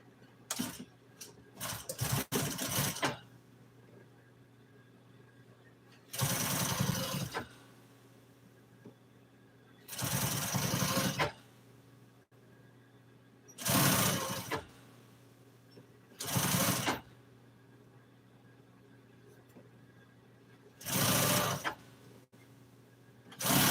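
An industrial sewing machine stitches auto interior upholstery in about six separate runs of roughly a second each, close and fairly loud, with a steady low hum and quiet pauses between runs.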